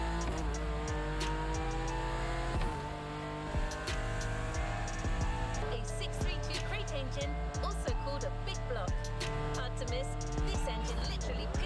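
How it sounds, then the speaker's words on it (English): Racing cars in The Crew Motorfest roar with steady engine drone and shifting revs, tires squealing now and then, while a player talks over the game sound throughout. "I love the way the cars sound in this game."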